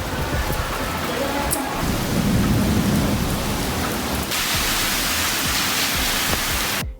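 Heavy typhoon rain pours continuously during typhoon season in Japan, a dense loud roar with deep rumbling thunder rolling underneath, and no voices.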